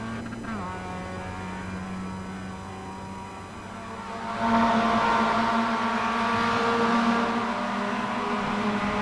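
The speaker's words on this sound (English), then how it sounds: "The GSRC MX-5 there, having a drive in and around the Glen and looking in mint condition as always." Mazda MX-5 race car in a racing video game lapping Watkins Glen, its engine droning and then revving louder around midway, with a commentator talking over it throughout.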